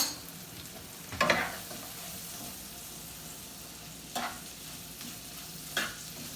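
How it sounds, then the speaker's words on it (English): Brussels sprouts and apples sauté in butter and olive oil in a pan, giving a steady low sizzle with three brief louder stirring bursts, close and with no talk. "I'm going to be just sauteing these in this butter and olive oil until they're just a little bit caramelized."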